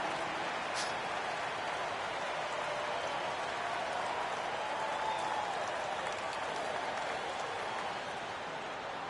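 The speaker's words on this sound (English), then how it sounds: "The home fans cheering for MP" Crowd of home fans at a basketball arena in the NBA 2K25 video game, a steady wash of cheering and applause that holds at an even, moderate level throughout, with no clear voices above it.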